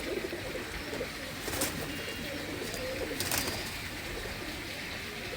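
A pair of imported Indian Madrasi pigeons coo softly, their low murmuring calls carrying on under a steady background hiss, with no voices.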